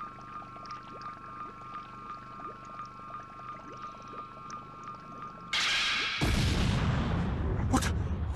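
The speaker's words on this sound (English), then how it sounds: "What was that explosion just now?" A sudden loud blast erupts in Dragon Ball Z: Kakarot, breaking over a steady game hum with a dense roaring burst and rumbling tail that carries on for a few seconds, with no talking.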